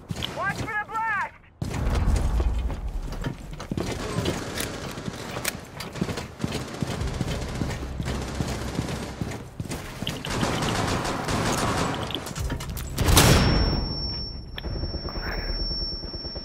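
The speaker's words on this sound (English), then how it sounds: "I just died because you flashbanged me" Explosive flashbang grenade blast and rapid gunfire in a multiplayer shooter video game, dense and loud throughout with a sharp burst near the end, while voices talk over the noise.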